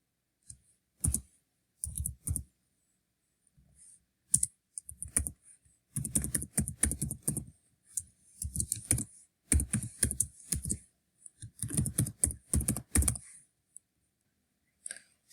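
Keys clatter on a computer keyboard in short bursts of quick taps separated by brief pauses, close and clear with no talking.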